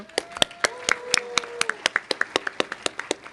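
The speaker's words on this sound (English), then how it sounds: "Huge round of applause to Fernando." Sparse, individual hand claps at a banquet, a handful of people clapping in an uneven rhythm with distinct separate claps, fairly quiet overall.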